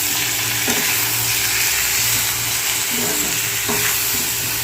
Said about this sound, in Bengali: হলুদ দিয়ে ভালো করে ভেজে নেব